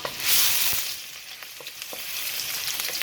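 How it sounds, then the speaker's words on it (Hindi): Garlic-ginger paste fries in two to three tablespoons of oil in a kadai, giving a steady, close, crackling sizzle with small pops, heard alone with no talking. "अब एक कढ़ाई है, उसमें 2 से 3 टेबलस्पून ऑयल ऐड किया है और लहसुन अदरक का पेस्ट डाल दिया है।"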